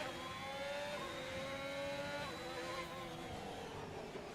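F1 cars in a video game race scream through the Castle section of a Baku street circuit, a continuous high-revving engine whine with rising and falling pitch from gear changes, faint and steady with no talk.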